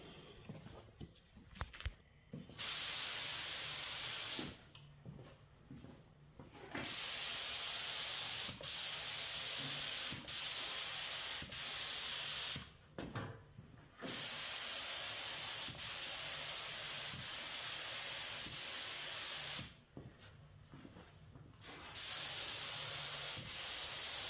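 An HVLP spray gun sprays tint onto car taillights in several long, loud hissing passes, separated by short quiet breaks, with no talking.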